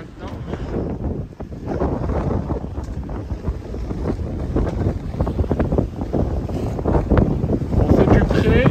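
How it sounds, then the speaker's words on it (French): Strong force 6 wind gusts around 27 knots on a sailboat beating upwind at sea off Greece with the genoa furled, a loud buffeting roar with water slapping the hull and someone speaking French over it. "Voilà, le vent est monté à 27 nœuds maintenant."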